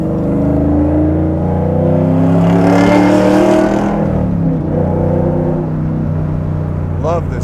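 A 700-horsepower LT4-powered 1967 Camaro pro touring build revs and pulls hard, its loud, steady engine drone rising and falling heard from inside the car.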